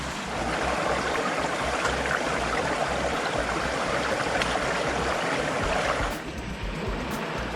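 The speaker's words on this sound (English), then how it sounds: "it's a tiny little creek" A tiny creek at an old gold mine near Queenstown flows steadily with a constant broadband rush of water, close and even in level, easing slightly near the end.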